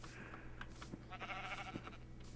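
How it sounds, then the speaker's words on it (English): Several short sheep bleats from Minecraft sound over a steady low hum, repeating a few times at moderate loudness with no talking. "And I hear sheep."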